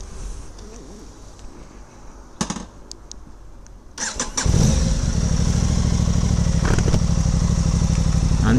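An Aprilia Tuono 660 motorcycle sits quietly with a few faint clicks, then the starter cranks briefly and the engine catches into a loud, steady close idle with a fast, even pulsing rhythm.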